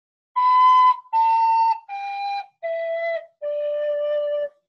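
A penny whistle plays five clear sustained notes, each stepping down in pitch with short gaps between them, close and loud with no talking.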